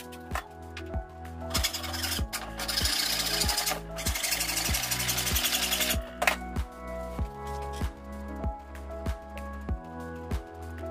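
A small drill bores holes for 0.1-inch headers in a scratch-built radio receiver circuit board, loud and close. A rapid rhythmic chatter runs throughout, with a harsher, denser grinding burst in the middle before the steady pulsing returns.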